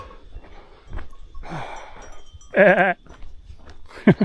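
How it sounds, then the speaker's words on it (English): A goat at Tiger Leaping Gorge in China gives one loud, wavering bleat near the middle, close by, between quieter rustling and faint outdoor noise. "Can I pet that goat?"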